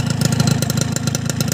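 Two-stroke motorcycle with an LRF exhaust idling: a steady, fast, buzzy popping putter, loud and close, with no talk.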